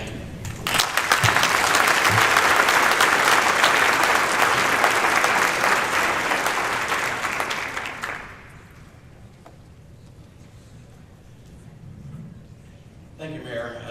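An audience at a housing forum breaks into loud, sustained clapping for the mayor for about eight seconds, then it dies away to quiet room tone, with a voice returning at the end.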